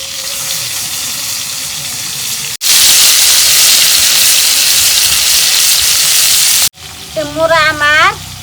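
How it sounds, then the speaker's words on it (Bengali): Rohu fish fry in hot oil, giving a loud, steady sizzle that swells into a fierce, dense hiss as the pieces go in, then settles into crackling frying with some faint clatter. "এখন তেল গরম হয়েছে মাছ ভাইজে নেব"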